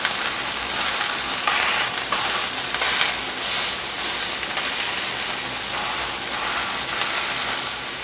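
A ham steak fries on high heat in a copper pan, giving a loud, steady sizzle with bursts of crackle and scraping stirs throughout.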